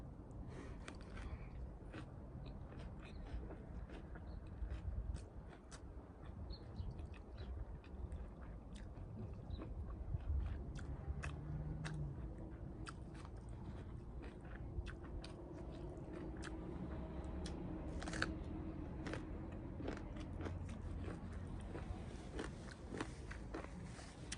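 Steady chewing of stir-fried pickled sour pork sausage with tomato, close and moist, running continuously over faint background noise.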